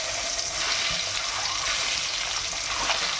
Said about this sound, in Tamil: இந்த முட்டையை போட்டு வறுத்து எடுத்துக்கலாம்